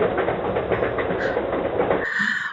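Loud rumbling train sound effect with rhythmic clatter, cutting abruptly to a different tonal sound before ending.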